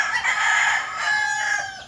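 Rooster crowing once, a loud, close, drawn-out call lasting nearly two seconds with no talk.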